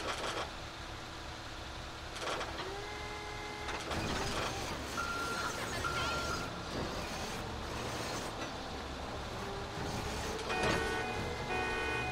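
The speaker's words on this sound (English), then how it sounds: "The alarm's going off." A vehicle alarm sounds in the GTA 5 video game beside a Ford F-450 police tow truck, with repeating electronic beeps over a steady engine and traffic rumble throughout.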